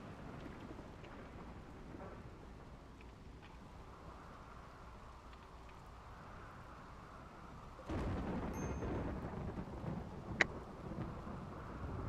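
Rain and thunder from a lightning strike in the Rimworld video game: a low storm rumble and steady rain, swelling into a louder, denser downpour partway through, with a sharp crack near the end.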